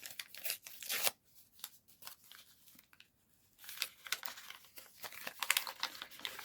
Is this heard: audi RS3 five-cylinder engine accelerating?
no